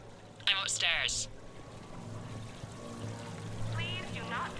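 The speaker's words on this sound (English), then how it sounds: "Please do not touch the waterfall. Please keep your hands out of the water." An indoor casino waterfall in the game Mass Effect 3 gives a low, steady wash of falling water that runs throughout, with brief speech near the start and end.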